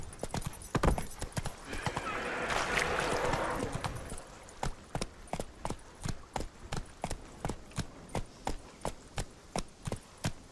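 Horse hooves in The Witcher 3 clip-clop in a steady, fast rhythm, with a brief burst of a whinny or snort early on, moderately close and alone.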